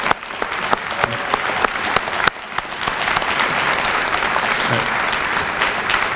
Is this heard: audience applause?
yes